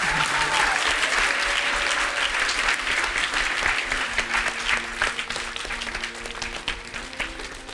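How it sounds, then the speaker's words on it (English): An indoor audience bursts into loud, dense applause for a speaker at an event, the clapping strong at first and then slowly thinning and fading over several seconds, with no voices. "Let's have another round of applause for Stuart Sender."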